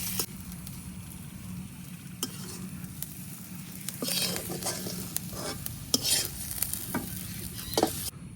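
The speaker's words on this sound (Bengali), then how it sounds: "রসুন আর পেঁয়াজ একসাথে বাজিয়ে নিতেছি" Garlic and onion frying together in hot oil, a close, steady sizzle punctuated by the scrape and clink of a spoon stirring against the pan, with no voices.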